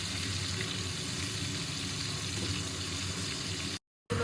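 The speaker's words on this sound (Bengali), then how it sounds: "এই তেলটার মধ্যেই আমি আলুগুলো ভেজে নিব" Potatoes frying in hot oil previously used for prawns make a continuous dense sizzle that holds steady and then cuts out abruptly near the end.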